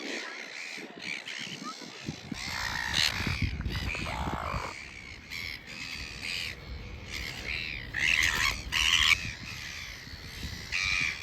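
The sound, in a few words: seagulls calling by a lake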